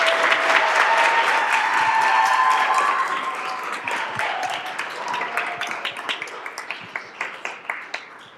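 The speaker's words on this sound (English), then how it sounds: "So let's give her a round of applause." An audience at a school district governing board meeting applauds a student athlete who plays volleyball. The clapping is loud and dense at first, then thins into a few separate claps fading out.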